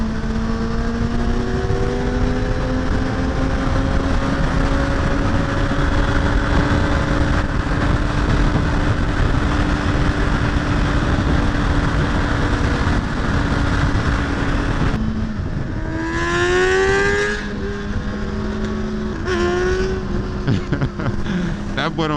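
Two sport motorcycles, a Suzuki GSX-R750 and a Honda CBR1000RR, rev and rise in pitch while riding in traffic, a continuous loud engine drone with a sharp upward rev partway through.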